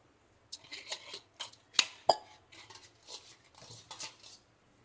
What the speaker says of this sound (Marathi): टाकून देते इथे आपण हे अंड्याचं करून घेतलेलं मिश्रण यामध्ये आणि हलवून घेते